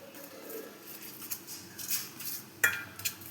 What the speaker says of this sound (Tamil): இதை நல்லா எல்லாம் சேர்த்து போட்டு கிளறணும்